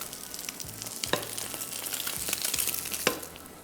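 Eggs fry in a pan with a continuous close sizzle, broken by a few sharper pops and crackles as the oil spits.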